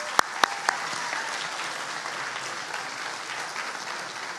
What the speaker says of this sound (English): I just want to give a round of applause to Coach Valdez